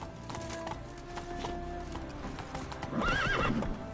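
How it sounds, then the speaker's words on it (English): Horse in The Witcher 3 video game galloping with a steady clip-clop of hooves, ending in a loud neigh and whinny, all close and prominent with game ambience underneath. "Run, Roach"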